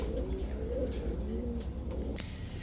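Pakistani Rampuri pigeons give low, rolling coos close by, a few soft phrases repeating over a short stretch with little else around.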